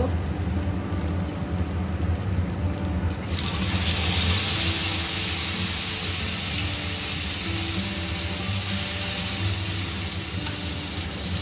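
Water poured into a pan of fish curry with nigella seeds and spice paste in mustard oil, a sudden steady hiss and rush starting a few seconds in over an ongoing low sizzle, continuous and fairly loud.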